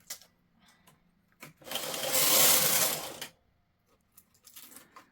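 A Brother KH970 knitting machine carriage sweeps across the needle bed while knitting lace. It makes one loud whooshing, rattling pass of about two seconds, framed by soft clicks and handling noises close by.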